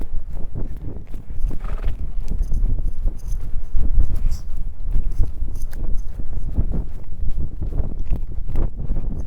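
A horse trots steadily with a rhythmic, close clip-clop of hooves, backed by wind buffeting the microphone.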